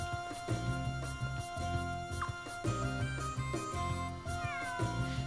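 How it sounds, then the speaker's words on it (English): A cat meows repeatedly as it is petted in the video game Suikoden V, short mews over a looping musical background with a steady beat, fairly faint and with no talking. "Go pet the kitty again."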